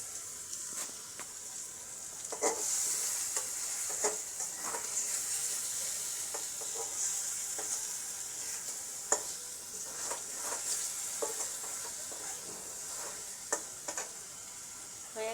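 Rohu fish curry with small onions simmering and sizzling in mustard oil after a splash of water, a steady moderate frying hiss with scattered pops and occasional stirring scrapes, no voices.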